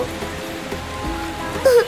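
A cartoon rain sound effect gives a short, steady wash of falling raindrops on a surface, with a brief higher tone near the end.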